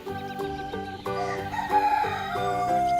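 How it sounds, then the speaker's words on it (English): A toy farm set's electronic rooster crow plays as a tinny, tonal cock-a-doodle-doo over a looping jingle, fairly close and steady for a few seconds with no talking. "The rooster wants some grains too."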